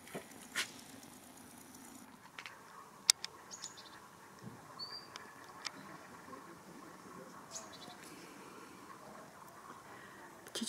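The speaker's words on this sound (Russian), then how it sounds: "Птички чирикают, так здорово." Small birds chirp outdoors near a resort building on a muggy day, brief faint tweets scattered over a soft ambient hush, with one sharp click and no speech.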